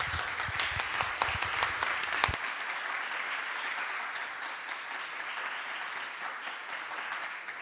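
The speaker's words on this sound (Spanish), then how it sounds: "demos un aplauso a nuestros ponentes." Audience applause at a talk on teaching music reading, dense and steady, with a burst of sharper loud claps early on before settling into sustained clapping from a crowd.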